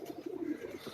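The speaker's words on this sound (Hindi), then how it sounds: "देखिए इसे अंबर सिरे कबूतर।" An Amber Sire pigeon on a Karachi rooftop gives a soft, low cooing call, faint and close, a brief rolling series of murmured notes.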